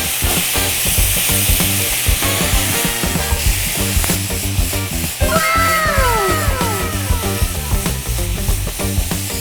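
Beef cubes fry in a hot pan with dried chili and garlic, giving a steady, loud sizzle throughout, with a few brief squeaky tones partway through.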